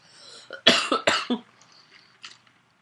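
A close cough fit of three or four sharp, rasping bursts, then a faint breathy sound as it tapers off.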